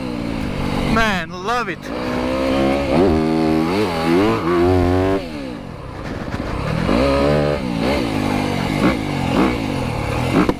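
2025 Yamaha YZ250FX dirt bike engine revving up and down through the gears as it accelerates, loud and close with a rising, falling whine. Someone speaks briefly over it.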